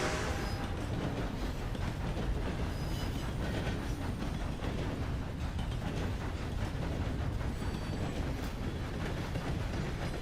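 A steam-era train runs in a Western video game with a continuous loud rumble and clattering wheel and mechanism noise, steady throughout, with no voices.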